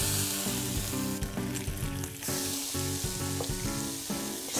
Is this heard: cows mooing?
no